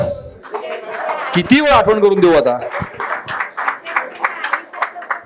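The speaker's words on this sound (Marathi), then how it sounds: "टाळ्या टाळ्या." Scattered hand clapping from a crowd at a 1992-batch school reunion get-together at Shivaji Vidyalaya. Voices talk over it first, then a run of quick, fairly close claps continues beneath ongoing chatter.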